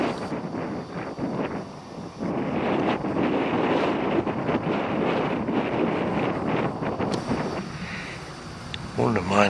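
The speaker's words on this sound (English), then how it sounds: "but so windy, can't hardly stand up" Strong gusting wind on an exposed hilltop in Puglia buffets the microphone in loud, roaring surges, steady and close throughout with a brief lull midway, and a voice is heard briefly near the end.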